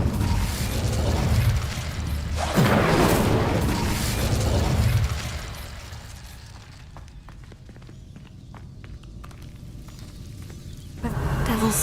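Incendio fire spells cast in Hogwarts Legacy against Devil's Snare in a dark hidden herbology corridor: roaring, bursting whooshes of flame over the first seconds, then quieter clicks and rustles before another surge at the end.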